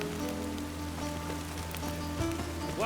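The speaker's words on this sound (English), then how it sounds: "Rain again. Damn mages." Steady rain pours down in the Witcher 3 video game, a constant wash of drops on surfaces beneath a low ambient hum, with a brief tonal swell near the end.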